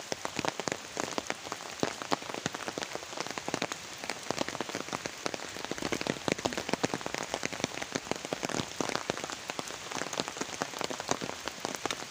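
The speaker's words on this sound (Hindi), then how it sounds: "मैं आपको दिखाती हूँ कितनी ज़्यादा बारिश हो रही है।" Heavy rain pours steadily, a dense continuous hiss of drops striking surfaces close by, holding an even loudness throughout with no voices.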